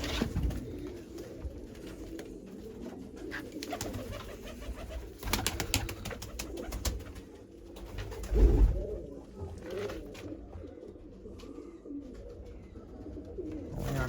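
Large pigeons cooing outdoors on a rainy day, soft repeated low coos over a steady background of rain and ambience, with a louder burst midway.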